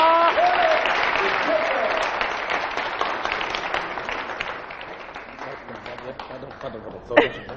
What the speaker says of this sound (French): je vous demande d'accueillir avec un tonnerre d'applaudissements